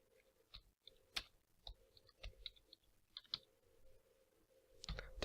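Typing on a computer keyboard, a quiet series of separate key clicks at an irregular pace, close and alone, with a louder rustle at the end.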